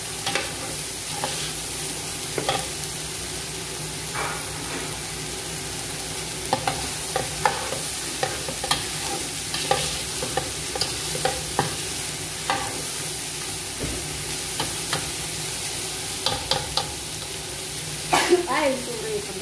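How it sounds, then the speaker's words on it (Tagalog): Vegetables for a soup being stirred in a pot, with intermittent scraping clicks and soft knocks from the spoon over a steady low simmering hiss, fairly close and moderately quiet. "Haluin natin."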